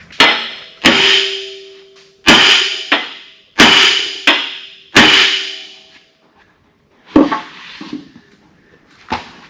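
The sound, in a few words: hammering on a stuck part of an offroad wrecker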